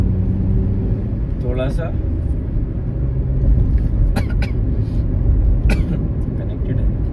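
A car rumbles steadily along a village road near Pratapgarh, with continuous low engine and road noise, a few sharp rattles and clatters, and a voice speaking briefly over it.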